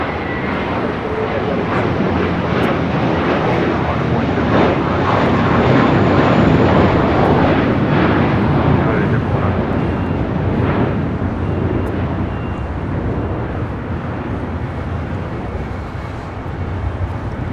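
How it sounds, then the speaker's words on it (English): Boeing 777 turning left onto a taxiway at LAX, a loud continuous jet engine roar with broad rushing noise that swells and eases slightly, with faint talk underneath. "The 777 making that left-hand turn onto taxiway Bravo"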